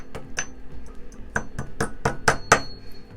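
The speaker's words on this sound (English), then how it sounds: "you can take a hammer" Sharp metallic hammer taps on wire for a wood burning tip, about nine in quick, uneven succession, close and crisp with a ringing edge.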